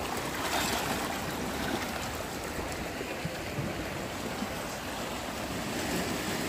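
Sea waves wash continuously against the rocky Malvan coast, a steady, loud roar of surf with no pauses and no voices.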